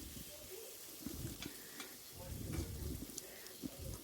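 Chopped onions with a pinch of salt sauté in a pan for Kumbakonam kadapa, crackling and sizzling steadily up close, with intermittent scraping stirs alone throughout.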